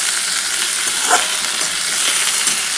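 Pui shak with potatoes is being fried and stirred in a pan, making a constant close sizzle broken by scraping stir strokes and a few sharper clicks, with no talking.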